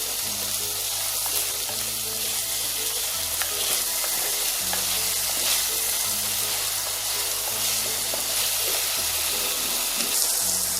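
Shallots with ginger-garlic paste and salt sizzle steadily in a pan for chicken varattiyathu, while a spoon stirs and scrapes at an even rhythm close by, with no talk.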